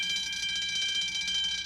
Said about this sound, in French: Mais c'est une alarme de feu!